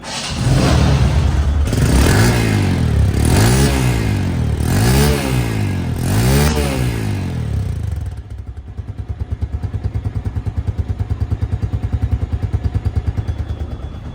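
A second-hand TVS Metro Plus motorcycle engine, run for only 300 km, revs loudly up and down in about five rising-and-falling pulses, then settles into a rough, throbbing idle close by.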